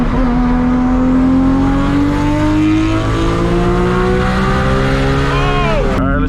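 Toyota Supra with a manual gearbox accelerating hard in second gear, its engine note climbing steadily and loudly for several seconds before a sudden drop as the revs fall off at the end.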